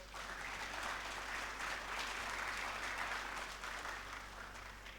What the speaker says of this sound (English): may I please ask that you give my panel a resounding round of applause